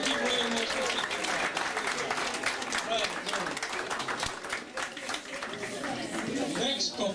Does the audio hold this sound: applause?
yes